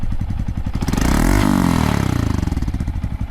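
A Honda Monkey 125 fitted with a TB Parts exhaust and a dB killer idles up into a smooth rev and then settles back. The exhaust pulse is close and steady and plays without any talk.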